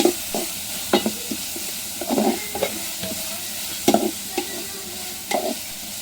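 Masala with turmeric fries in a pan for a Kerala snakehead fish curry, a soft sizzle under a spoon stirring and scraping in irregular bursts, close up with no voices.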